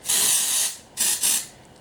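Morning After Dust aerosol from Technicart sprayed in short hissing bursts, one long spray followed by two quick ones, loud and close with no talking.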